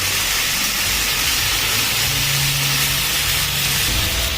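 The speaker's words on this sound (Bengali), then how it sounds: "আরও 2 মিনিট ধরে ভালো মতো মিশিয়ে টমেটোটা যতক্ষণ না গলে যাচ্ছে ততক্ষণ আমি এখন নাড়তে থাকবো" Chopped tomatoes being stirred and fried in a pan for chicken curry, with a steady, loud sizzling hiss and faint scraping running throughout.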